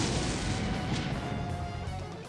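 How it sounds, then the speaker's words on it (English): An explosion from the video game Dies Irae roars as a loud, broad, sustained blast that fills the whole moment and fades slowly without a sharp single crack. "a deafening explosion"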